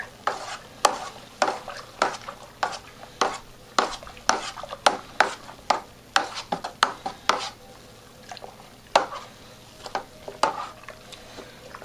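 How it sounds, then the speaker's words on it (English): A spoon stirs oak powder into homemade Barolo wine must in a primary fermenter, producing repeated scraping, knocking strokes at an irregular, brisk rhythm, close and fairly loud with no voices. "And stir that in."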